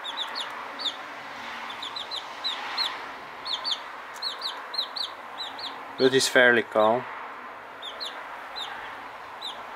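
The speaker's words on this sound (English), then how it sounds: "Here we have the chick with the typical partridge down. However, I do think it's a silver partridge, not a brown one, or a golden." Soft repeated peeping from a silver partridge chicken chick runs through the whole stretch, with someone speaking briefly over it near the middle.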